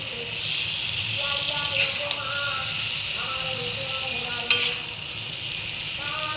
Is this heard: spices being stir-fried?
yes